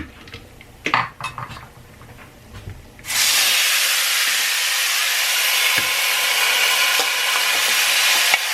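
Tomato sauce hits a pot of cooking rice for chile verde, bursting into a loud, steady hissing sizzle that holds on after a few clinks of cookware and a lid.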